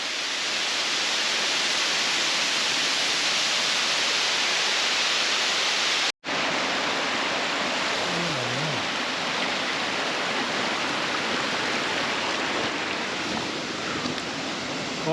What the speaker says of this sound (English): Waterfalls for days up here.